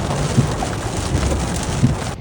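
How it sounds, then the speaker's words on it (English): Heavy pouring rain drums on a car while it slows behind an Amish buggy in Amish country, a dense steady wash with a few soft thumps, no talking. "It's pouring rain, and we are slowing down as we are following an Amish buggy."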